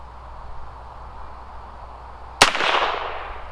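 A single sharp gunshot from a Heritage Rough Rider .22 revolver cracks loudly after a quiet stretch of outdoor background, then a short echo rolls off behind it.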